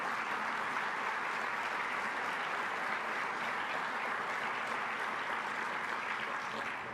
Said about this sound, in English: would you please give them a warm round of applause for bringing us together today